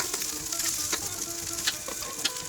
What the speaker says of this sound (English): Now we give them a good stir.